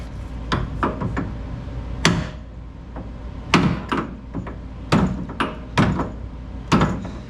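Sharp metal hammer blows on a pickle fork driven against a Ford Mustang ball joint, about a dozen irregular strikes with a few louder whacks, close and ringing, with no talk.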